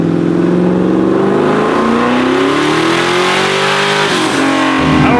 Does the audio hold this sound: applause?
no